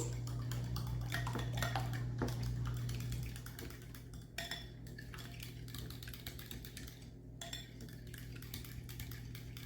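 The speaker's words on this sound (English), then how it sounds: "you just go ahead and you just mix these things all up together" Applesauce and other ingredients for zucchini bread being stirred together in a bowl, with utensil scraping and clinking against the bowl through a steady hum, busier for the first few seconds and then softer.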